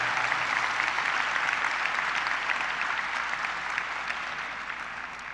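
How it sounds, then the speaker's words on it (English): Audience applause at a high school graduation ceremony, a broad, steady round of many hands clapping that gradually tapers off. "How about another round of applause?"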